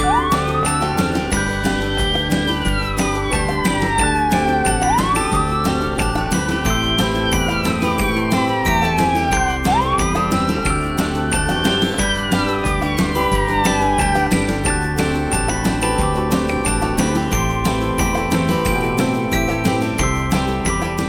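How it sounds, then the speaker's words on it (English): A wailing ambulance siren sweeps up and down in long repeating cycles, loud and steady, over a bright jingly musical backing with no talking. "said Daddy Pig, and he got into the ambulance"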